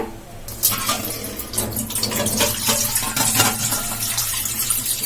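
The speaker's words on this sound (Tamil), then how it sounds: "சென்டர்ல நம்ம தண்ணி ஊத்திக்கலாம்." Water is poured into a kadai sitting on a stove, around a small bowl set in its center, giving a continuous close splashing and gurgling stream with no voices.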